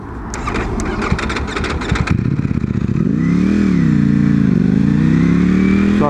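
Superbike V4 motorcycle engine, loud and close: sharp blips and crackles at first, then a sustained rising and falling rev that holds strong without reaching full throttle.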